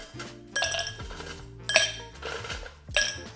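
Ice cubes clink into a highball glass while a drink is being built, several separate bright clatters spaced about a second apart, close and fairly quiet.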